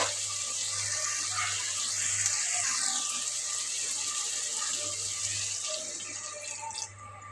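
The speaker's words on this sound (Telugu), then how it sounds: "ఇంక ఇప్పుడైతే నీళ్ళు పోసేస్తా" Water pours in a steady, continuous stream into a cooking pan of ridge gourd curry to make gravy, gradually lightening near the end, with a faint low hum underneath.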